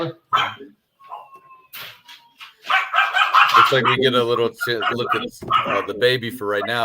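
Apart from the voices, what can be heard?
dogs barking in the background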